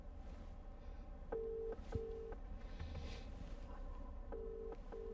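Outgoing call tone from Apple CarPlay in a 2020 Porsche Macan S, repeating short steady beeps in pairs over a low cabin and road hum, fairly faint with no talking.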